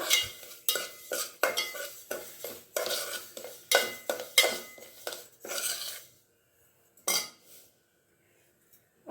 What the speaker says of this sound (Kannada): ಬರೀ ಬನ್ಸಿ ರವೆನ ಹುರ್ಕೊಂಬಿಡೋಣ